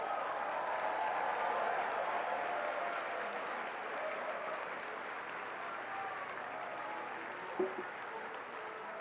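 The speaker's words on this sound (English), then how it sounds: "Let's give them a round of applause." A large commencement crowd applauds the graduating class in a steady, dense wash of clapping that holds throughout and tapers slightly, with a brief louder knock near the end.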